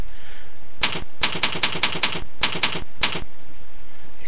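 Keys tapped on a computer keyboard while entering text into a notepad file, sharp clacks in quick bursts of several strokes with short pauses between, close and clear over a quiet room.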